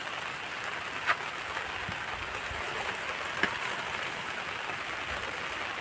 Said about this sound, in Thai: ฝนตกติดต่อกันสิบวันก็ อย่างที่เห็นครับผม